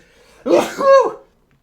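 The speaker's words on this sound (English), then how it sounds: "Excuse me, I sneezed." A single loud sneeze close to the microphone during a livestream, with a sharp breathy onset that swells into a voiced, tonal tail lasting under a second, followed by quiet.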